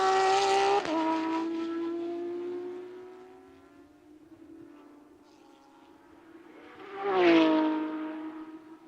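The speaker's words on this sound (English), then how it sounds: "If there is a more glorious sound than a Porsche Carrera 911 GT3 Cup car at speed" A Porsche Carrera 911 GT3 Cup race car screams past at speed out of a final turn, its high-revving engine note dropping in pitch as it fades, then another loud pass swells in near the end.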